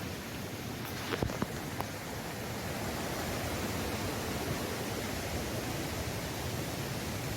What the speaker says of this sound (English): at last the gushing waterfall